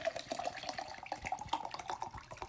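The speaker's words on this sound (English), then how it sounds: "I'm pouring in some new water." Fresh water poured into a container, a continuous bubbling, splashing trickle running steadily at close range.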